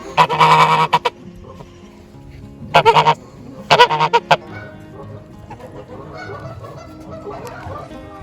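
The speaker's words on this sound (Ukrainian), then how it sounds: "дивись, як він так тихенько крякає" Waterfowl at a winter zoo beside a half-frozen pond giving short nasal honking calls in three close bursts, followed by quieter low murmuring and faint background noise.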